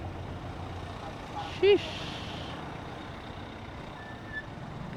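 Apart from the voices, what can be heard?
traffic of trucks and cars on the road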